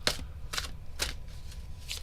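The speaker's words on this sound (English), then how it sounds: "So let's do a cleansing shuffle for King Pong." Tarot cards are shuffled in four or five short, crisp riffling bursts spaced about half a second apart, close and quiet with no voices.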